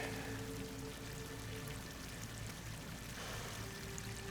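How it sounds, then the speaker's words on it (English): Water pouring steadily into an enclosed chamber with slick walls in the video game Horizon Forbidden West, a continuous rushing flow under a low hum, with no voices. "Water's coming in."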